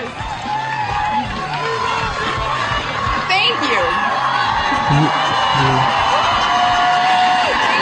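A studio audience at a political event for a senator cheers, whoops and yells loudly and continuously, a dense crowd roar with scattered shouts, and a voice speaks briefly over it.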